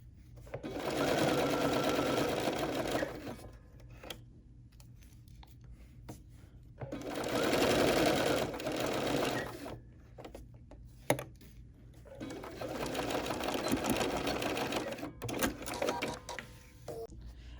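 A Bernina sewing machine stitches small teddy-bear body parts in three steady whirring runs of several seconds each, separated by quiet pauses with light handling clicks.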